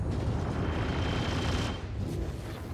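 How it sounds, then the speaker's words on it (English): Sustained gunfire in the Star Citizen video game, a dense, loud roar of rapid shots that blurs into continuous booming noise and eases slightly near the end. "I'm shooting at them"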